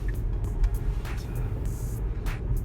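A Tesla cornering on Autopilot and accelerating up a ramp, with low road rumble and tire noise, faint passing whooshes over a steady hum, no talk.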